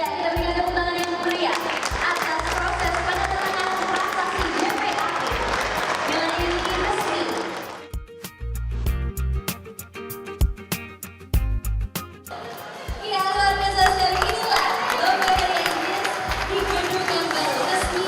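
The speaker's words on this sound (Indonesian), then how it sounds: "kita berikan tepuk tangan yang meriah atas proses penandatanganan prasasti GPA" Audience applause at a plaque signing ceremony for a new building, a loud sustained crowd clapping that dips briefly midway with scattered individual claps before swelling back to full volume.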